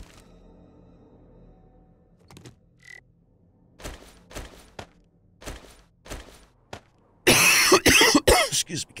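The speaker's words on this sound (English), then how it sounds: "I'm still dealing with a cough here." A man coughs several times in short sharp bursts between quiet pauses, ending in a louder, harsher fit of coughing close to the microphone.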